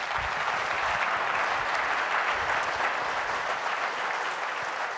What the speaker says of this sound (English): Please give the 7 people a big round of applause.